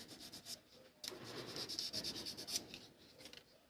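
A guitar nut for an Epiphone Les Paul 100 is sanded with P400 sandpaper, giving soft close rubbing strokes in an uneven rhythm after a short pause, with no talking.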